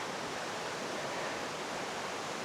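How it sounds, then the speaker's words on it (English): A river rushes past a campsite on the Waiotauru Track, a dense, steady broadband roar of flowing water, constant and close with no other sounds. "this is the river I'm camping next to"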